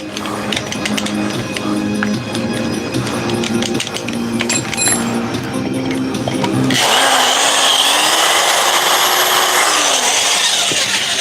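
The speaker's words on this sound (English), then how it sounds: "if this isn't the dullest drill bit I've ever used" A dull, heat-worn drill bit grinding into material, loud and close: a rough, rattling drilling noise that shifts abruptly partway through into a harsher, higher whine of a power drill running steadily.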